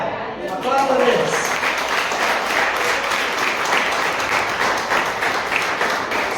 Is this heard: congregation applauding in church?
yes